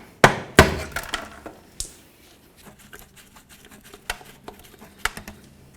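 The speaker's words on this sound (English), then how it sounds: "we're going to continue on to trying to pry the differential cover off of the differential" Prying the differential cover off a 1999-2007 Ford F250 rear axle: two sharp metallic knocks open, then scattered clinks, taps and scraping in a sparse, irregular pattern, close and moderately loud.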